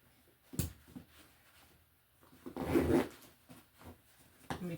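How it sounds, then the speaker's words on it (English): Zipper on a backpack pulled in short bursts, a quick rasp near the start and a longer, louder zip in the middle, with softer rubbing of fabric between, close and alone. "Get it caught in the zipper."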